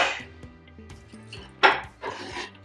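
Omelette ingredients are stirred in a dish, giving a few scraping and clinking utensil sounds against the bowl, close and fairly quiet, with no talking.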